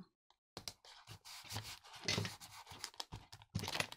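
Adhesive tape ripped off a roll in several sharp tearing bursts and pressed around cardboard, with crinkly pressing and smoothing sounds between them, close up and fairly loud.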